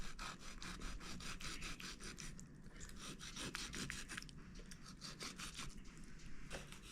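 A knife scraping and trimming red meat from a gar fillet, repeated rhythmic rasping strokes up close with no talking.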